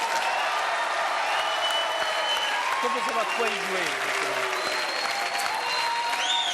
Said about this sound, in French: Ah, bravo. Applaudissements.